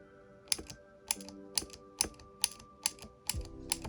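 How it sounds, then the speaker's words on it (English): Keys clack on a Varmilo Forest Fairy mechanical keyboard fitted with version 2 EC electrocapacitive IV switches, about eight crisp, close strokes at an unhurried, slightly uneven pace with quiet gaps between them. "testing out the Varmilo Forest Fairy mechanical keyboard featuring Varmilo's new version 2 EC or electrocapacitive IV switches"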